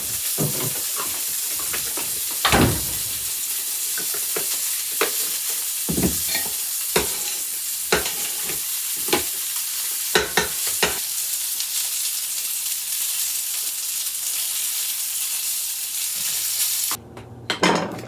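Milk poured into melted butter sizzles in a frying pan for a steak-finger gravy, a steady close hiss broken by repeated scraping stirs and clinks, with a brief shift near the end.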